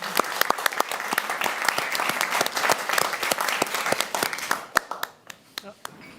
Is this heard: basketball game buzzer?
no